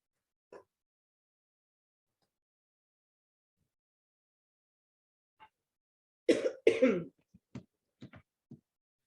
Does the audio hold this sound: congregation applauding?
no